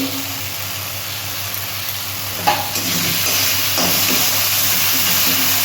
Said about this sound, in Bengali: মশলাটা আমি ভালো করে কষিয়ে নিয়ে তারপর জল দেবো